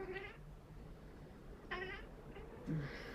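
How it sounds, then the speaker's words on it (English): Cats chitter in a few short, bright, quavering bursts spaced across a couple of seconds, moderately quiet over a low steady background hum. "The kitties are chittering."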